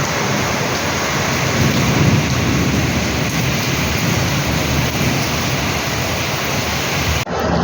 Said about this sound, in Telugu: చాలా పీస్ఫుల్గా ఉంటుంది వర్షం సౌండ్ వినడానికి.